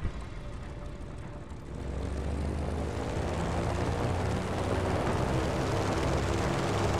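Airplane engine in Just Cause 3, a steady loud propeller drone that swells and holds without a break, no talk over it.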